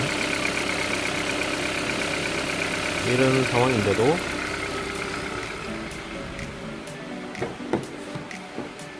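A car engine idling steadily during an auto repair check while the tachometer reads zero RPM, a constant low hum under someone speaking Korean, with a few clicks and knocks near the end.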